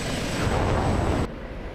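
A Hellfire missile launching from an OH-58 Kiowa Warrior helicopter in the DCS flight simulator, a loud, dense roaring rush that holds steady for about a second before cutting off abruptly to a quieter rumble.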